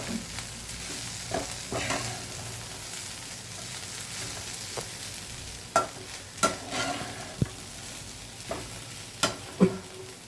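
Turmeric-coated poha sizzles in a pan while being stir-fried, a steady hiss broken by repeated sharp clacks and scrapes of a spatula against the pan.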